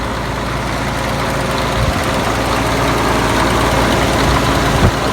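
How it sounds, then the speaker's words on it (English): A Cat 12 grader's diesel engine idles loud and close, a steady low rumble with constant vibration and no voices. "So at this point I can now warm up my diesel engine."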